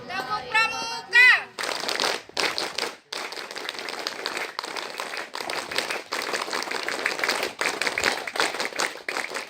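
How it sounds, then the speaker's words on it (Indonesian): A Pramuka scout group performs the scout clap at a camp opening ceremony, opening with a short chanted vocal burst, then rapid patterned rounds of loud, crisp clapping in bursts separated by brief pauses. "Tepuk pramuka."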